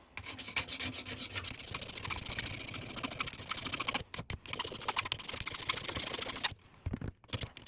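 An improvised spokeshave scrapes along wood in quick, rasping strokes, loud and close, with brief pauses between runs.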